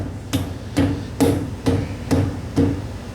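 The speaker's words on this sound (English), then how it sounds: "we're going to push this bad boy on here, and we're going to hammer it on." Six steady, evenly spaced hammer blows ring out on metal, driving a bushing onto the sway bar of a VW Thing, each a sharp close strike with a short ringing decay.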